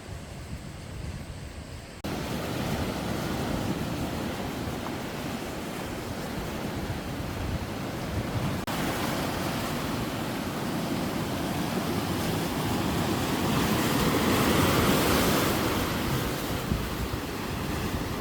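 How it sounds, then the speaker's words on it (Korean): Continuous roar of ocean surf crashing against coastal rocks, dense and loud, swelling slightly toward the end with no voices. "바위에 부딪히는 파도 소리"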